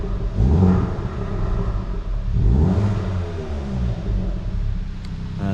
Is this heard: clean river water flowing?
no